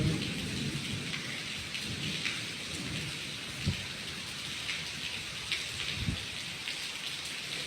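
Heavy rain pours steadily with wind, heard from under a temple pavilion roof, a dense constant hiss with low rumbles and a couple of sharper gusts or drumming bursts, no voices.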